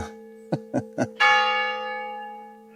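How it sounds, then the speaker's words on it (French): Three short knocking taps, then a single church bell strikes loudly and rings out, its tone slowly decaying over a steady electronic hum. "juste avant que la cloche se mette à sonner"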